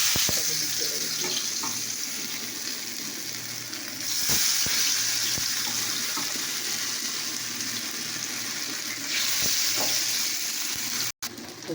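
Food spiced with turmeric and chilli powder frying in hot oil, a loud, steady hiss that swells in the middle with occasional clicks and knocks, close and continuous.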